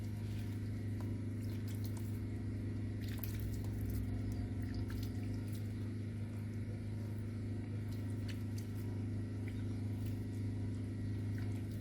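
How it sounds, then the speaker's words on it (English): Water sprinkled over freshly seeded backyard garden soil, a steady soft wash of patter over a constant low hum, continuous for the whole stretch with no talking. "After we put the seed on top, then the next thing we just sprinkle water again."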